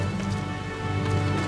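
Steady rain falls in the video game Final Fantasy XIV: Dawntrail, a soft continuous patter of drops spread evenly across the scene, with no voices over it.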